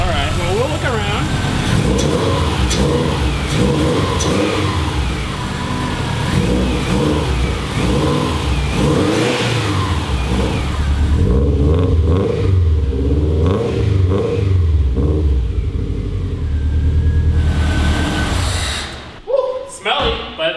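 A built Subaru EJ205 engine in a WRX fires up and revs hard several times, loud and close, with voices talking over the rising and falling engine.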